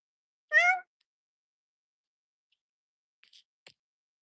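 A single short cat meow rings out near and clear against silence, followed later by a few faint soft clicks.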